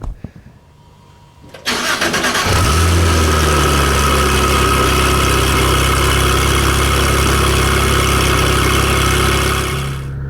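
A Porsche 911 GT3 with its exhaust baffles open cranks and fires up, then settles into a loud, steady, close idle with a deep rumble that holds to the end.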